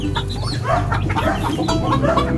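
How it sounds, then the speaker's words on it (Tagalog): Several chickens of a fine breed cluck in short, repeated bursts, fairly close and loud against a steady low background hum, with no talking. "Ang ganda ng klaseng manok mga ito."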